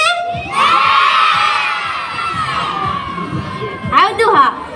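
An audience at a live event answers the host with a loud burst of cheering, whooping and excited shouting that swells, fades a little, then spikes again near the end.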